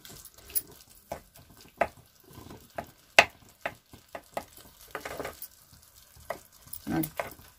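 Tomato and spinach gravy for aloo palak cooking in a pan, soft intermittent sizzles and bubbling with scattered clinks of a spoon stirring, fairly quiet and close, with no talk.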